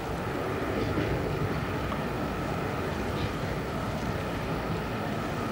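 Steady, continuous rumble of a moving train, a dense low roar with no distinct breaks, filling the whole stretch without any voices.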